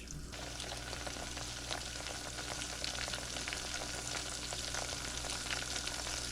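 Northern pike pieces frying in hot oil, a dense, continuous crackling sizzle that holds steady and close with no voices over it.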